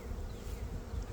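A dense, steady buzz of many honeybees inside a large, busy hive colony, close and continuous with no voices.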